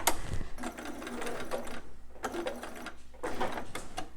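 A domestic sewing machine stitches fabric for a newborn romper in quick mechanical bursts, its rapid needle chatter running in three runs separated by short pauses, close and clear with no talking.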